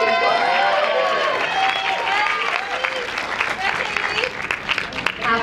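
An audience at a bikini fitness competition applauds and cheers throughout, a dense, steady wash of clapping with scattered whoops and crowd voices mixed in.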